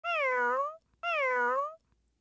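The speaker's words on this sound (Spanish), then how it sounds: "gato" A cat gives two clear, drawn-out meows in succession, close and loud, with a short silence between them.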